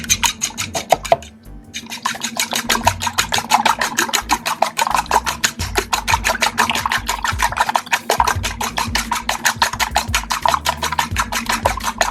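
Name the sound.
mixing eggs in a bowl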